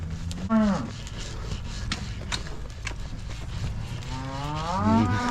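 Cattle moo twice at a livestock weighing, a low drawn-out call near the start and another rising one near the end over ambient barn noise.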